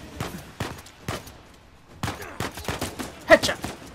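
Gunfire in the video game Uncharted 4: several sharp, punchy shots go off at irregular intervals, spread across a few seconds of combat at moderate loudness, with the loudest burst near the end.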